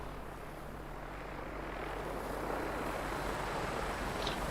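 A vertibird helicopter comes in to land on a helipad in the video game Fallout 4, its rotor drone a broad, steady roar that gradually grows louder, with no talking.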